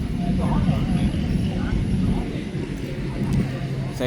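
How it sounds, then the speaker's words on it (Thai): An RC model Gripen jet takes off at a small airfield, giving a loud, steady engine roar with rumbling low end that carries through the whole stretch, with voices nearby. "ขึ้นบินแล้วครับ"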